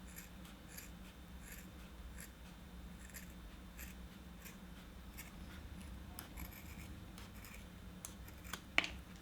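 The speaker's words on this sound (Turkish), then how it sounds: "Şimdi o fazlalığı kesiyorum." Scissors snip away excess from a custom Footbalance QuickFit insole in a run of soft, regular cuts, close but quiet over a steady background hum, with one sharper snip near the end.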